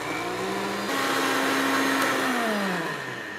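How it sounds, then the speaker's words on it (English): A countertop blender whirs loudly, blending cucumber-avocado soup with cayenne pepper, a steady high motor whine that climbs in pitch as the mix smooths out, then eases slightly near the end, close and alone. "and turn on the blender."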